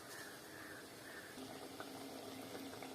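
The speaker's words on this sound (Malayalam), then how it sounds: "പുളിയിട്ട അരപ്പ് നന്നായിട്ട് തിളയ്ക്കുന്നുണ്ട്." A pot of curry paste made with tamarind for fish curry bubbles on the stove, a faint, steady simmering hiss with soft popping bubbles throughout.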